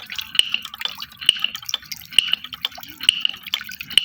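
A wooden wind turbine clacks and ticks in a steady repeating rhythm, light knocking sounds cycling roughly once a second, close and fairly quiet.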